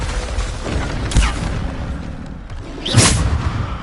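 Bombarda spell explosions in the Hogwarts Legacy video game: two loud booming blasts about two seconds apart, each with a rushing whoosh, over continuous game background noise.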